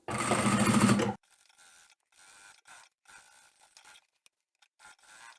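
A sewing machine runs in one loud, steady burst of top stitching on a fabric hanging shoe rack, then falls quiet except for faint handling noises.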